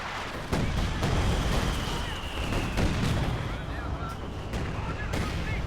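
Battle in Company of Heroes 2 with a Jagdtiger tank firing on a KV-2 under artillery flares, a dense rumbling roar of distant cannon booms and shell impacts, with a commentator talking over it.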